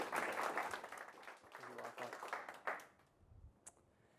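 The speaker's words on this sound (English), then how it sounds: "So a round of applause for all the organizers and our funders." Audience applause at a small pitch event, a burst of clapping from a modest crowd that fades to quiet after about three seconds, with faint voices mixed in.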